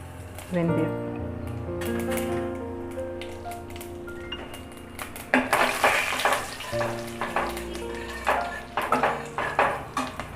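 Mustard seeds, urad dal and fenugreek crackle and sizzle in hot oil for a tempering, with scattered pops and a spoon stirring and tapping the pan, growing busier midway while someone talks over it.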